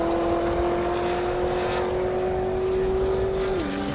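Race car engine drones loud and steady at a half-mile airstrip drag race, holding one sustained pitch that drops slightly near the end, with no talk over it.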